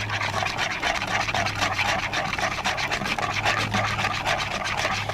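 A parmesan and garlic powder coating for corn on the cob is stirred briskly in a bowl at a campsite, a continuous close scraping and rubbing with a faint low hum beneath.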